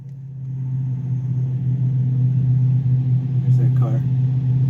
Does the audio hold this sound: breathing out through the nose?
no